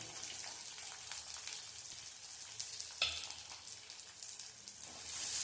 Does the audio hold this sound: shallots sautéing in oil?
yes